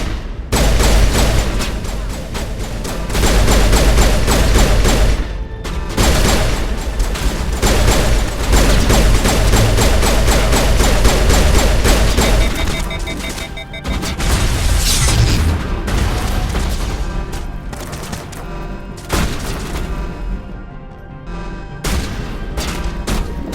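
Heavy sustained gunfire in Mass Effect 1 Legendary Edition: dense rapid bursts and booming shots pile up almost nonstop, loud and close, with only brief lulls and no voices.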